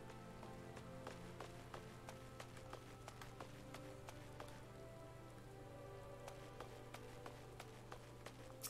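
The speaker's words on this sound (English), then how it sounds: "Oh, it's raining." Steady rainfall in the video game Final Fantasy XIV, a constant soft patter with scattered sharper drops over a low steady hum, even in level throughout.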